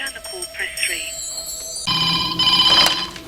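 Telephone bell rings in a film scene, a clear ringing tone against background dialogue and ambient sound, growing louder in the latter half.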